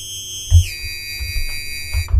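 A dubstep formant scream synth run through a saturator gives a piercing, feedback-like whine that bends downward and then holds, heard alone over soft low thumps.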